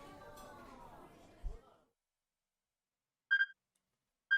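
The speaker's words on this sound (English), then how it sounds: "You heard the strange beeping sound again." In the video game 428: Shibuya Scramble, two short, clear electronic beeps sound a moment apart after some murmured voices fade, each one brief and distinct against silence.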